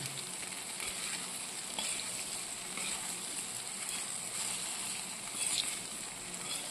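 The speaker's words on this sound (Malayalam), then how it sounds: "ഉരുളക്കിഴങ്ങും കൂടെ ഇടും. ഉപ്പിടുക. നമുക്കൊന്ന് ഇളക്കാം." Potatoes with salt crackle and sizzle steadily in a pan, with faint stirring scrapes over a constant close frying hiss and no voices.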